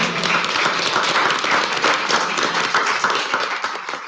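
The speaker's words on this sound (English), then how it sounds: "I honestly think they deserve a round of applause" Attendees at an El Centro city council meeting give a round of applause following a proclamation, a moderately sized crowd clapping steadily for about four seconds, fairly close and without speech.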